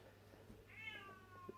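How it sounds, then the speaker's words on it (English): A cat meows loudly in a drawn-out, rising and falling call near the microphone, with a steady low hum and faint room noise underneath. "cat's going berserk again."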